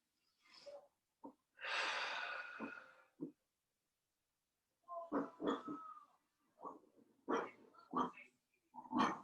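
A dog growls and snorts in short bursts close by, harsh breathy rumbles with sniffs and huffs during a home strength and flexibility workout, scattered irregularly across quiet gaps.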